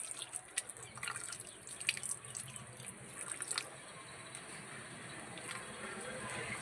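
Faint water trickles and drips into a pickle jar, with small splashes early on, then a soft steady pour, quiet and close.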